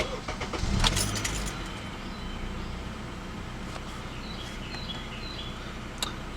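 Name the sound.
2012 Acura TSX sedan engine startup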